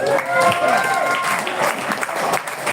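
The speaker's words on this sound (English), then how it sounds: "Another round of applause for Matt." Applause for Matt at a dojo challenge event in Japan, a short burst of clapping with voices talking and calling out over it.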